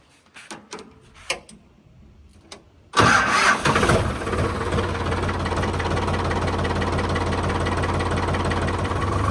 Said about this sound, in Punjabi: ਟਰੈਕਟਰ ਸਟਾਰਟ ਕਰ ਦਈਏ